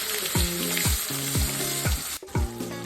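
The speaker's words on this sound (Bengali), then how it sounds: "জিরা আর শুকনা লঙ্কা দেওয়া হলো এখন যাচ্ছে পেঁয়াজ" Onions with cumin seeds and dried red chillies fry in hot oil, a loud steady sizzle broken by repeated scraping stirs at a regular pace, with no talking.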